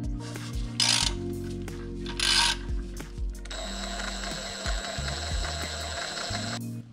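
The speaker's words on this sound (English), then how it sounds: "So I'm gonna use this 5 millimeter hex, this little Allen key to hopefully get at them." Close, crisp ratchet clicking from a 5 mm hex Allen key bit turning oil pan bolts on a 1999 Mk4 Golf, in short bursts and then a long steady run of rapid pawl clicks.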